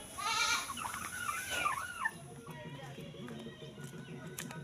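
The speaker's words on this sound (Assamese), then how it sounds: "ছাগলীয়ে" A goat bleats in a wavering, nasal call near a rural house, followed by quieter background sounds and faint bird or animal chatter, fairly soft overall.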